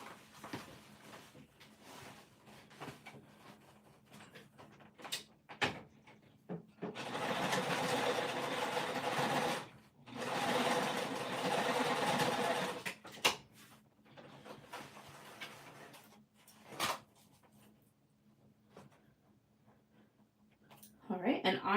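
A sewing machine stitches shut the seam opening on a winter crescent bag in two steady bursts of close, rapid whirring, with someone talking quietly between them.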